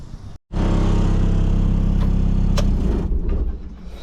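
A heavy mulching machine rips up brush, its engine a loud, close, steady roar. The roar cuts out for an instant near the start and then holds at full strength throughout.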